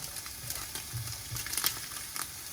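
Shrimp fry in a pan with lemon, giving a quiet, steady sizzle broken by soft scraping and stirring knocks.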